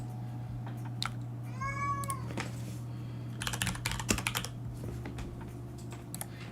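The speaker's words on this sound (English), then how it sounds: "apologies if you can hear my kitty cat screaming in the background" A cat lets out a drawn-out, wavering meow in the background while keys clatter in bursts of typing over a steady low hum.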